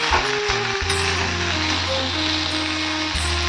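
Food frying in a pan while cooking an egg-and-rice fry, a steady broadband sizzle running through the whole stretch, joined by a low hum and tonal background sounds, with no talk.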